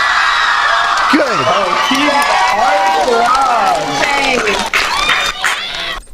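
A studio audience at a live Q&A event cheers, whoops and applauds loudly, with a continuous crowd roar; a few spoken words come through near the end.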